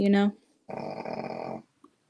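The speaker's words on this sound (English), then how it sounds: "That's your dog." A dog growls in a low, rough rumble lasting about a second, coming after a brief spoken voice, with a faint small noise trailing at the end.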